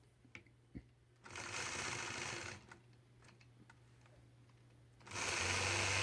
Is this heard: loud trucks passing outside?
no